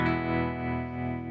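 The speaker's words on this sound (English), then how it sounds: "So now we're just back to just the guitar with some reverb." Sustained electric guitar chord ringing out with a wash of reverb, steady and fairly quiet, slowly decaying with no voices.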